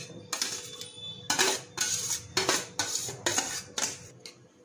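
Mutton pieces dropped into a metal pot while layering a Sunday-special mutton biryani, a series of about five clattering, clinking impacts spaced roughly half a second apart, close and fairly loud, with no talk.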